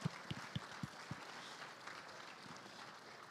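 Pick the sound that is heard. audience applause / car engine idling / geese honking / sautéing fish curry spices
audience applause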